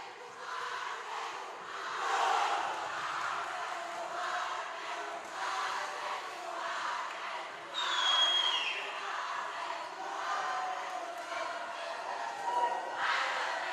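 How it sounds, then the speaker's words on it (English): Crowd noise from the stands at a high school football game between Arvin and Golden Valley, steady distant cheering and chatter with swelling roars and a sharp whistle partway through. "Great Arvin crowd tonight. Great Golden Valley crowd tonight."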